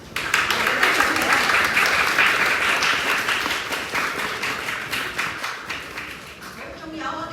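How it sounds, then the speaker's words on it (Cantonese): At a tech and space-application competition award ceremony, an audience applauds a bronze award winner with sustained, lively clapping that slowly thins toward the end, with some talk mixed in. "掌聲恭喜我哋嘅得獎者"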